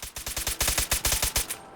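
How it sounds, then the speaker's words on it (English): The CR-74L combat rifle in Fallout 4 fires on full auto, a rapid, evenly spaced burst of about a dozen close, loud shots that ends abruptly. "It sounds like a higher fire rate than the combat rifle for sure."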